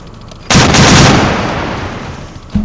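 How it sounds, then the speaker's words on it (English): Warship gun turrets fire in the naval video game Victory At Sea Atlantic: one loud, close blast rolls into a long decaying rumble, and a second shot cuts in right at the end. "direct all gun turrets."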